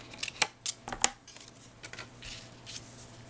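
Hand scissors snipping paper for a holiday gift card holder, a few sharp, quiet cuts in quick succession followed by softer rustling of paper in a quiet room.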